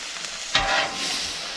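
Sausage dropping into hot bacon grease, a sudden close sizzle bursting up and then settling into a steady fry.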